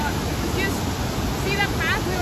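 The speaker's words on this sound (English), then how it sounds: "Beautiful spot, though. Devil's Cauldron Waterfall." A steady, broadband roar of rushing water from the Devil's Cauldron waterfall in Baños, Ecuador, heard continuously from nearby, with brief chirps or squeaks over the top and no clear speech.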